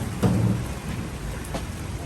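Heavy rain pours steadily at an outdoor event, with low rumbling thunder rolling underneath the broadband hiss of the downpour; no voices.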